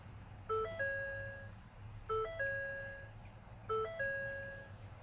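A 2013-2014 Ford F-150 with a newly installed factory SYNC 2 system plays its startup chime three times: a short two-note electronic ding rising and held, repeating every couple of seconds over a low cabin hum.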